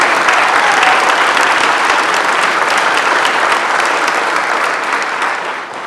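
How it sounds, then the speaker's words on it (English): A dinner crowd at a county Republican Lincoln Day Dinner breaks into sustained applause honoring a speaker's wife, a thick, even roar of many hands that stays strong and fades a little near the end. "I just want to give her a round of applause because she's been awesome."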